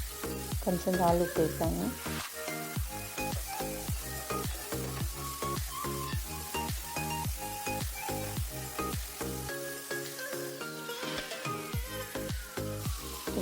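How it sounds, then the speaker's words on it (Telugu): Small tomatoes frying in a pan, a steady close sizzle with rhythmic stirring scrapes throughout, while someone talks over the cooking. "2 టొమాటోలు చిన్నవి అది వేసి కొంచెం బాగా ఫ్రై చేసుకోవాలి, టొమాటో మెత్తబడే వరకు"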